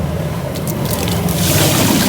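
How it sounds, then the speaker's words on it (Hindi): Water poured onto 12 kg of rice in a large cooking pot to soak, a steady loud splashing and sloshing rush that carries on throughout without pause. "12 किलो चावल में आपने पानी डाल देना है"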